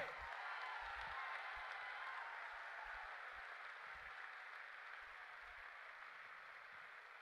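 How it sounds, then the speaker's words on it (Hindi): A crowd claps steadily in dense applause, fairly distant and even, fading slightly toward the end. "एक बार अपने अपने माँ बाप के लिए जोर से तालियां बजाओ, जोर से"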